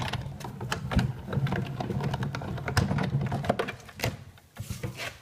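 A Big Shot embossing machine is cranked by hand, feeding cutting pads and a honeycomb embossing folder through its rollers, giving a steady run of soft, close ratcheting clicks and mechanical ticks.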